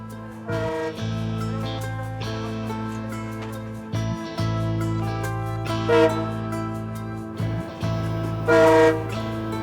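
Railway train on the Southern Railway in Peru, heard as a loud, steady rumble of engine and wheels on track, with sustained horn-like tones over it and a few brief drops in level.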